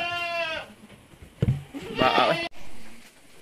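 A young goat bleats clearly at the start, followed by scuffling and another strained, wavering bleat, with some farmyard movement around it.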